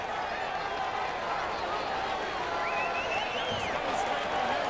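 A minor-league baseball crowd of several thousand at a Mahoning Valley versus Brooklyn game gives a steady, distant roar of cheering and scattered clapping, with a voice talking over the crowd.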